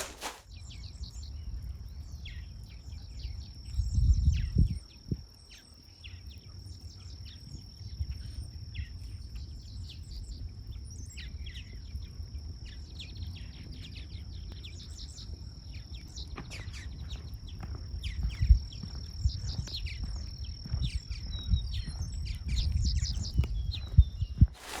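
Birds sing in open countryside where a red-winged blackbird turns up, with scattered chirps and a steady high insect-like drone over faint low rumble, near to moderately far, no voices.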